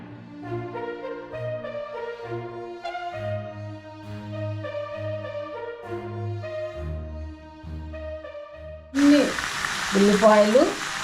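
Onions hit a hot pan and frying sizzle bursts in loudly near the end, after a stretch of music, while palak pulao is being cooked.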